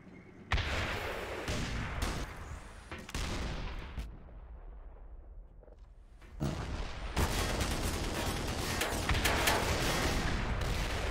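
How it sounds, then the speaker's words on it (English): Missile launcher and battle fire in Black Mesa, heavy booming blasts and crackling gunfire in loud bursts with a quieter lull midway, then sustained roaring fire. "Mount launcher, fire missile."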